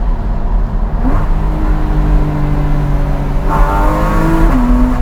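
A Porsche 981 Cayman S with Fabspeed F1 headers revs hard and climbs through gears, with sharp exhaust pops at each upshift, loud and close.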